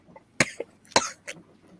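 Three sharp coughs, close and fairly loud, spaced unevenly with a short quiet gap between the second and third; no talking.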